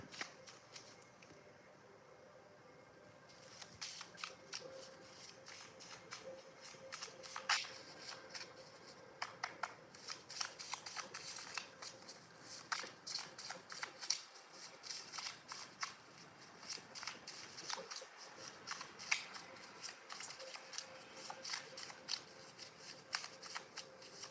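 A deck of tarot cards is shuffled again and again, crisp riffling and flicking bursts in steady runs, close up, with soft thumps now and then and no talking.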